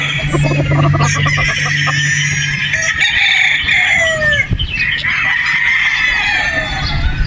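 A pure Boston Roundhead broodstag rooster crows loudly and close by in a drawn-out call, with clucking and other fowl sounds around it.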